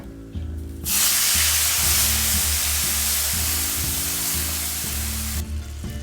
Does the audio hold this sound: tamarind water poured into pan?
yes